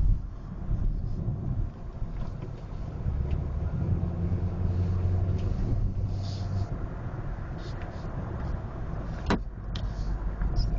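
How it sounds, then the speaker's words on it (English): Steady road and tire roar from inside a 2012 Honda Civic EX-L moving at about 65 mph, with buffeting wind noise and a constant low engine drone. "You can hear the road noise and see where it revs at those speeds."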